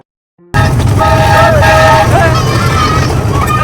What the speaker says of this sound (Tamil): அந்த ட்ரெயினோட சவுண்ட் ரியலா ஊட்டி ட்ரெயின் மாதிரியே இருந்தது.